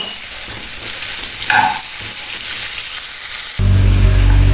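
Carrot and radish pickle cooks in a pan with turmeric and spices, making a loud, close, continuous sizzle with stirring scrapes, growing stronger and deeper near the end.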